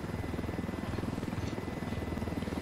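A helicopter in the video game Ghost Recon Wildlands, its rotor thumping in a fast steady beat under a constant engine drone, heard alone at moderate level.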